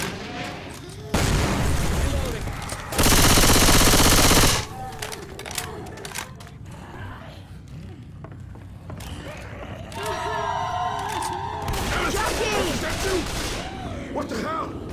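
Left 4 Dead 2 gameplay: loud bursts of gunfire, including a sustained rapid volley, mixed with clanks, creaks and other game noises, with voices speaking at times.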